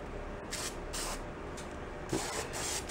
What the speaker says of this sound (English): Let's take some spray glue.